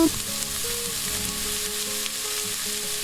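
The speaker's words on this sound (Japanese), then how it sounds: "ここでまあまあ炒め てください。" Onions stir-frying with garlic in oil in a frying pan for keema curry, a steady close sizzle with faint scraping and stirring throughout.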